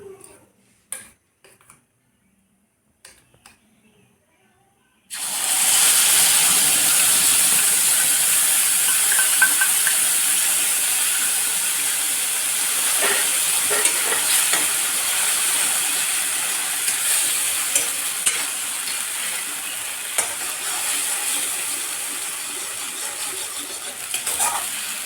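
Mustard paste dropped into hot cooking oil bursts into a loud, steady sizzle after a few seconds of quiet kitchen clicks, the frying hiss holding close and strong to the end.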